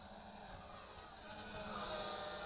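A Helicute H806 Hoverdrone Evo hexacopter drone flying hovers with a faint, steady high-pitched whine of its six small rotors, rising slightly in loudness, no talk.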